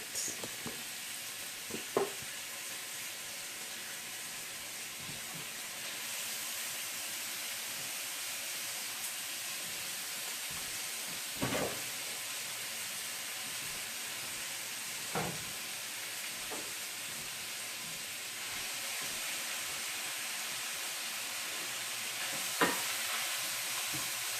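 Bacon, a thick premium cut, sizzles steadily in a pan with a constant broadband hiss, broken by a few sharp pops and crackles, close and alone with no talk.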